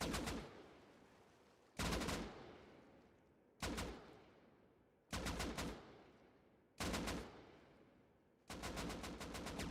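Video game gunfire comes in six loud, close bursts of rapid shots, each cutting in sharply and fading out in a reverberant tail before the next volley, with no voices.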